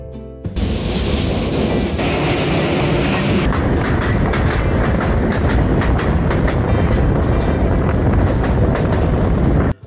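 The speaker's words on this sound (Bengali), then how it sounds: "রাত 10টা 1 মিনিটে আমাদের ট্রেনটি যাত্রা শুরু করে সিলেটের উদ্দেশ্যে।" The Upaban Express passenger train runs at night from Dhaka toward Sylhet, a loud, continuous roar of wheels and carriages with rhythmic clatter from start to finish, heard from on board.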